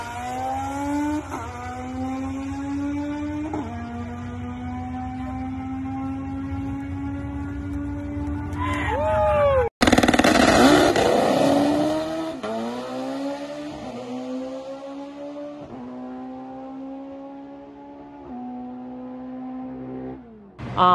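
A K-Series front-wheel-drive all-motor drag car screams through a run, its engine pitch climbing and dropping sharply at each gear change, with a loud burst midway and then further rising pulls as it fades slightly.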